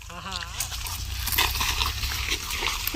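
A dog vocalizes with a short whining yelp, then rough barking sounds amid noisy outdoor background and people talking nearby.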